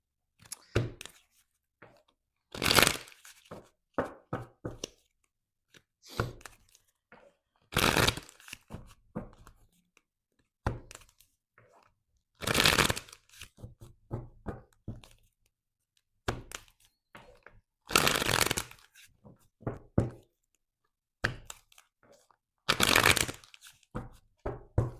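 Tarot cards are shuffled in repeated bursts of riffling and snapping, each a second or so long, with short pauses and scattered taps in between. The sound is close and fairly quiet, with no talking.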